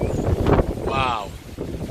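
A strong gust of wind sweeps through a tropical garden in late autumn and roars steadily against the microphone, with a voice talking faintly underneath.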